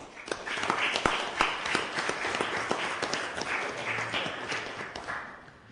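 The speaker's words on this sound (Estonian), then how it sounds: "teeme neile kõigile üheskoos ühise aplausi" Council members at a Viljandi city council session clap together for award recipients, a modest round of scattered, fairly close handclaps that swells and tapers over several seconds.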